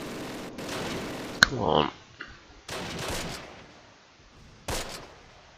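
MG42 machine guns firing in the WWII strategy game Close Combat: Last Stand Arnhem, sharp bursts of rapid fire in separate clusters with quiet gaps between them, and someone speaks briefly.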